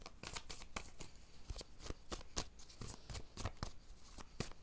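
Tarot cards are shuffled close up in a fast, steady series of crisp riffling flicks, quiet and with no voices.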